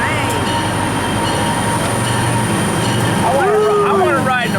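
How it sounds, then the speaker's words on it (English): The Agawa Canyon tour train rumbles loudly and continuously near Sault Ste. Marie, with a wheel squeal rising near the end. "Agawa Canyon tour train."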